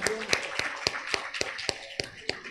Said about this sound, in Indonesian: tepuk tangan buat Ibu Din